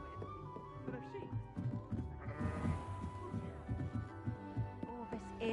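Sheep bleating in repeated wavering calls, fairly close and steady, mixed with people talking throughout.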